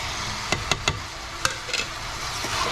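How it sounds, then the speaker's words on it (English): Minced mutton fries in a pan over a medium flame with a soft, steady sizzle, broken by a few sharp knocks of a spoon against the pan. "I'm going to fry it on medium flame"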